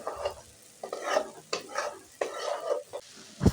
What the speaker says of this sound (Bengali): ঢাকনা খোলার পরে আমি ঝোলটা শুকনো হওয়া পর্যন্ত আরও 2 মিনিট রান্না করে নেব।